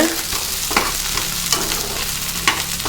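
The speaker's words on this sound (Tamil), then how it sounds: "வெண்டைக்காய் சேர்த்து நல்லா எண்ணெயிலேயே வதக்கிடுங்க" Okra (vendakkai) sautéing in hot oil for a hotel-style buttermilk curry gives a steady close sizzle, with a few sharp spatula stirs scraping the pan at intervals.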